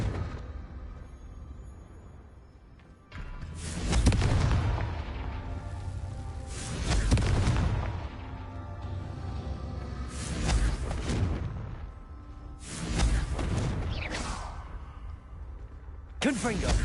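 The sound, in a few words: Confringo fire spell explosion in a video game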